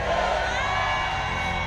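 Church congregation shouting and cheering in praise during a worship service, a dense continuous roar of many voices filling the room at steady loudness.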